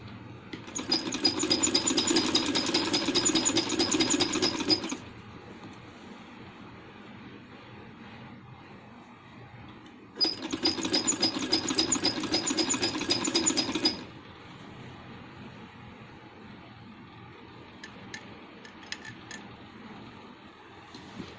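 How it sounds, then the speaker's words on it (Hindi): A sewing machine runs in two steady stretches of rapid stitching, about four to five seconds each, as it sews a dress suit, with a quiet pause of handling between them and faint clicks afterward. "मैं इसकी यहाँ पर सिलाई लगा रही हूँ।"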